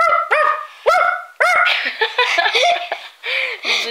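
A person imitates a dog barking during a game of truth or dare at a birthday party, giving several short, loud yelping barks mixed with laughter and giggles from others nearby.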